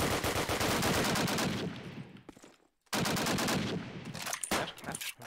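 Machine gun fire in a Carentan match of a World War II shooter, long loud continuous bursts that break off briefly near the middle and resume, close and dominant.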